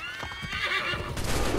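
A horse neighs loudly in Assassin's Creed III, a drawn-out whinny with clip-clop hoofbeats and a rushing game backdrop beneath it, no talking.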